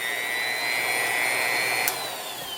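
Bosch 1618EVS D-handle router motor running steadily at low speed, a smooth close whine with a high tonal hum, alone with no talk.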